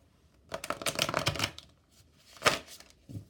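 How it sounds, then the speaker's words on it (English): Stiff tarot cards riffled and slapped together in two short bursts, a crisp papery flutter followed by a brief pause and another quick shuffle. "These cards are so hard to shuffle."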